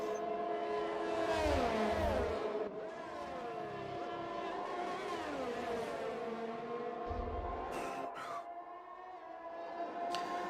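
F1 2021 video game race cars sweep past Tamburello at Imola, engines whining loud and near with shifting pitch as several pass in turn, a commentator talking over the roar.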